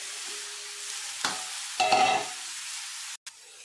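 Sprouted green moong drops into hot oil in a pan and sizzles steadily, with a brief stirring clatter partway through, heard close and without talking.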